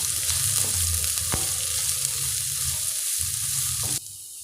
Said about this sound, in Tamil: கூடவே நாம் வெங்காயத்தை சேர்த்துடலாம். எல்லாத்தையும் நல்லா வதக்கிக்கோங்க.